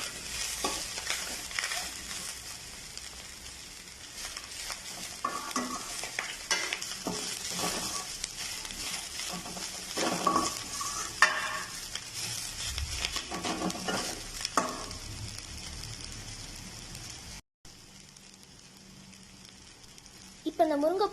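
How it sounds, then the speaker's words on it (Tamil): Drumstick flowers sauté in oil in a pan, a continuous close sizzle with scraping stir strokes and occasional clinks over about twenty seconds, briefly cutting out near the end. "இந்த முருங்கைப்பூவை நாம் எண்ணெயிலே தான் வதக்கி வேக வைக்க போகிறோம்"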